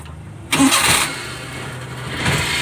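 A Suzuki Multicab engine cranks over and catches after a quiet moment, then settles into a steady, close idle with slight vibration, no voices present.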